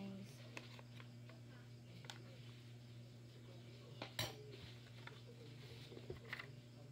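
Cooked puto being moved from a steamer with utensils, giving faint scattered clinks and taps of metal on cookware over a steady low hum from a nearby appliance.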